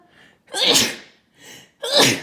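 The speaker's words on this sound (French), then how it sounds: "je viens d'éternuer" Two sharp, loud sneezes follow a short intake of breath, each a close, explosive burst, the pair separated by about a second.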